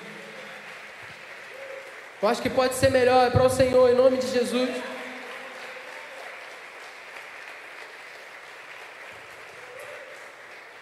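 Church congregation breaks into loud applause for about two seconds after a preacher speaks, then the clapping fades under his continuing voice.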